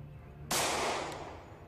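A single loud pistol gunshot in Project Zomboid, a sharp crack out of a quiet background that decays over about a second.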